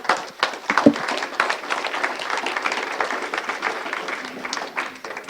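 Audience applause at a community solar panel event held by the Democratic Party of Bernalillo County: dense, steady clapping from a roomful of people, close and fairly loud, lasting several seconds.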